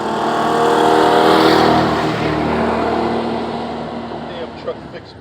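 A repaired truck engine revs loudly and steadily, swelling to a peak early on and then slowly easing off, with a few short knocks near the end.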